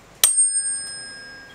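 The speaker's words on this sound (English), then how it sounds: "If I do this with a different tuning fork" A struck tuning fork rings over a resonance tube in a physics demonstration, giving one sharp attack followed by a clear, sustained pure tone that slowly fades, heard alone and close.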